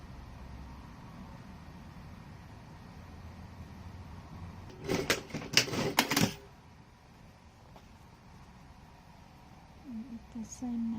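Sewing machine stitching the side seam of a blouse, a short burst of rapid mechanical whirring and clatter for about a second and a half amid quiet room tone, with a voice briefly heard afterward.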